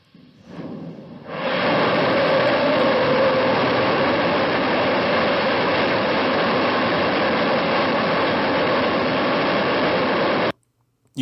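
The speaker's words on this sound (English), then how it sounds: "This particular engine is the XRS 2200 built by Rocketdyne in 1999" A massive, steady roar of the Rocketdyne XRS-2200 aerospike rocket engine test firing, with a sudden loud start that holds constant for about nine seconds, then cuts off abruptly.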